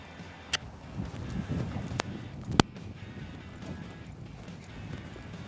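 Soft hoof beats of a horse at a slow lope thud in a steady rolling rhythm, fairly distant and quiet, with a couple of sharp clicks partway through.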